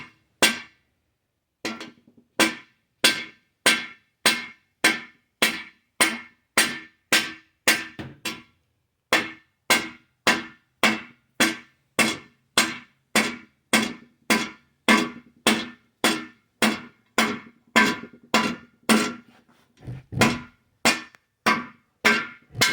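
A dead blow hammer drives a long rod to knock a cam bearing out of a Ford 351W engine block, with sharp metallic strikes repeating at a steady, even rhythm about once a second, close and loud.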